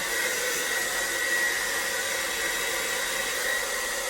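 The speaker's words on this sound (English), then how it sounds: "That's why I love my one blow dryer, the Revlon one" A Revlon one-handed blow dryer runs steadily while drying hair, giving a constant airy whoosh with a faint whine, close and even in level, with no voices.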